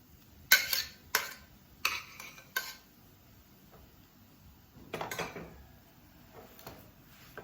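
Blended chicken mixture for chicken popsicles is stirred in a bowl, with several loud clinking scrapes of a spoon against the bowl in short bursts and quiet pauses between them.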